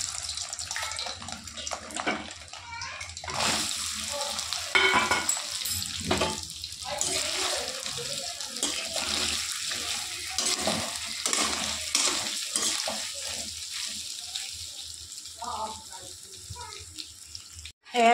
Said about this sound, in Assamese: এতিয়া মই কেৰাহীত তেল দি দিছোঁ আৰু চয়াবিন দি দিম ফ্ৰাই কৰিবলৈ কাৰণে